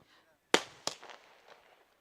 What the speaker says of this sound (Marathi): पाहतो आपण फटाक्याची आतषबाजी इथे पाहायला मिळते व्यासपीठावरती